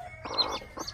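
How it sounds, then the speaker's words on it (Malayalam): A native country hen clucks twice in quick succession, close and fairly soft, with no talking. "23 നാടൻ കോഴികൾ"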